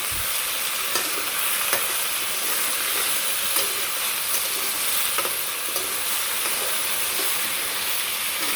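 Taro and potato frying in a pan on a stove, a steady close sizzle with occasional stirring scrapes running the whole time.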